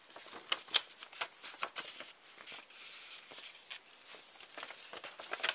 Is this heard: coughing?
no